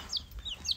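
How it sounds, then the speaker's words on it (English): Baby chicks about two weeks old on a farm give three thin, high peeping chirps at close range, evenly spaced over under a second. "we got some of our baby chicks here"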